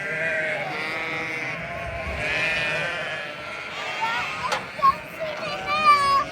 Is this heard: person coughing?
no